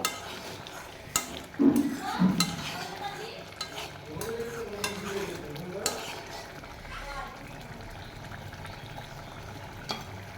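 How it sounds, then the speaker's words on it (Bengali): A spoon stirs egg dal with salt in a pan, giving soft scrapes and occasional clinks over a gentle bubbling simmer, with a few louder knocks near the start and quieter mixing afterward. "দিয়ে আবার ভালো করে আমি নেড়ে চেড়ে নেব"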